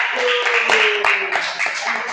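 A classroom group receives applause, a brief burst of scattered clapping from a small crowd with voices talking over it.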